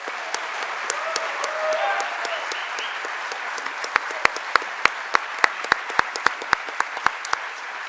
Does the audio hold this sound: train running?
no